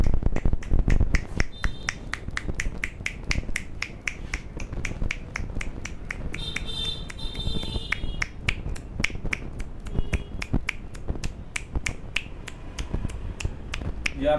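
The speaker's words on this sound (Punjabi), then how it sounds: "ਕਿੱਦਾਂ ਮਾਰਦੇ ਚੁਟਕੀਆਂ" An 81-year-old record holder from Amritsar snaps his fingers in a rapid, steady run of sharp, close clicks that repeat evenly for about fourteen seconds with no pauses.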